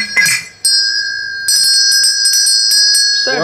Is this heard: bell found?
yes